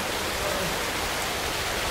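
Steady, dense hiss of heavy rain from Tropical Storm Noru falling continuously in Laos, a broad even wash of sound with no breaks and no voices.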